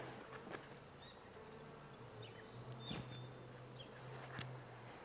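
A honeybee trapped inside a beekeeper's veil gives off a faint, close buzz with a low droning hum that rises and falls, over quiet outdoor background with a few soft bird chirps.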